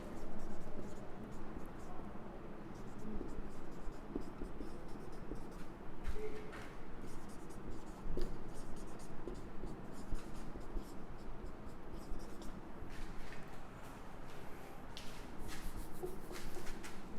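Chalk or marker writing on a classroom board during a chemistry lesson, a continuous scratchy stroking with brief taps and pauses, close and steady.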